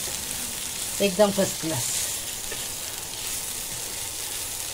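Cooked vegetable filling with chicken frying in a pan, giving a steady soft sizzle throughout while a voice speaks briefly over it.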